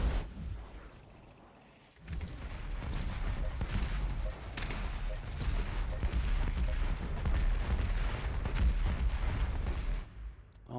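Rapid rocket fire and explosions in the shooter game Doom Eternal, a dense, continuous barrage of booming blasts and crackling impacts that fills the whole stretch, loud and close, with a short quieter gap near the start.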